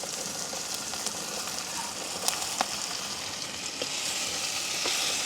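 Green beans stir-frying with tomato in a pan over a wood fire, a steady close sizzle with scraping stirs and a few sharp crackles, no talking.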